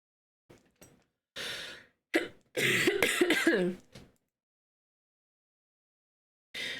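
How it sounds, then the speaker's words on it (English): A sick person coughs and clears their throat several times up close. The short, raspy bursts are separated by silent pauses, with no other sound around them. "you have to excuse my coughing and my constant nose blowing"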